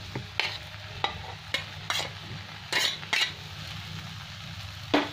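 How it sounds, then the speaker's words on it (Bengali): A spatula presses and mixes peas with boiled potato in a frying pan: a series of separate scraping, mashing strokes against the pan, close and fairly quiet, over a low sizzle. "এবার একটু খুন্তি দিয়ে এরকম চেপে চেপে দেবো, মটরগুলো মেজারটা ভাঙবে।"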